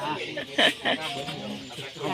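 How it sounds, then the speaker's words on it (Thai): Domestic hens cluck in short, close bursts on a rural Thai homestead, with someone talking over and around the birds. "คะไก่บ้านค่ะแม่ไก่บ้านค่ะ"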